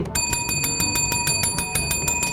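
A bright bell rings in rapid, steady repeated dings, clear and close, with a sustained metallic shimmer and no talking.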